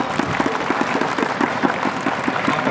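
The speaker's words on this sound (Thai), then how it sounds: "และขอเสียงปรบมือดังๆให้กับท่านนายกสมทรงพัชเจริญวรุณด้วยครับ" A crowd applauds the provincial administration chief at the opening ceremony of the 9th Vigo Thailand event in Phra Nakhon Si Ayutthaya. The clapping is continuous and fairly close, with a faint regular low pulse beneath it.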